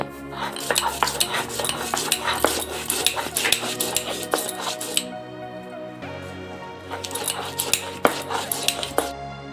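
Fried garam masala, bay leaves and cumin are being ground up close, giving rhythmic bursts of scraping and clattering strokes that repeat with short pauses between.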